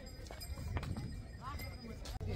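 Horses clop along a mountain trail on the way to Kedarnath in Uttarakhand, their hooves giving irregular sharp knocks under nearby voices talking.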